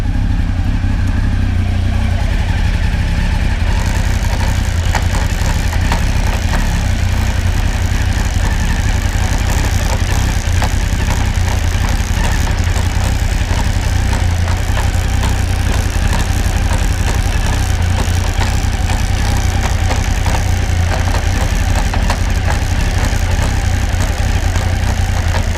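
A motorcycle sits on its stand with the clutch pulled in and first gear engaged, engine running at a steady loud idle throughout, a constant close rumble that never changes pitch.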